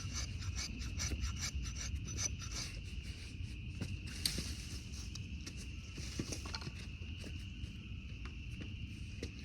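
A knife spine scrapes steadily against fatwood, giving a close, quiet, continuous rasping rub with faint repeated strokes and a high background hiss, with no talk.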